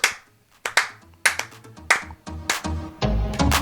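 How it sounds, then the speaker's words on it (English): A slow clap: single sharp hand claps spaced about two-thirds of a second apart, close and crisp, quickening into a denser burst of clapping by the end. "Slow clap for Mac"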